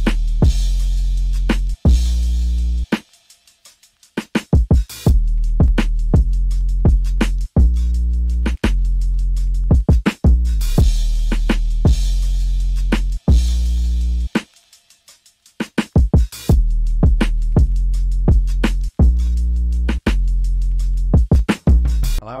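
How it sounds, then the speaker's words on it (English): Kick and snare hits of a soulful hip hop beat in a live-instrument style, played together as a full kit. The steady groove carries loud, dense low thumps, with two brief dropouts partway through. "And here's what all the drums sound like together."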